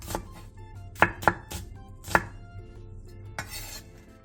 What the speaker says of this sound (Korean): 양파 2분의 1개를 채 썰어주세요